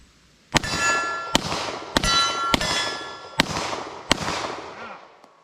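An AR15 rifle fires a full magazine at a steel target. Six or so separate sharp shots ring out a fraction of a second apart, each followed by a bright metallic clang and a ringing decay.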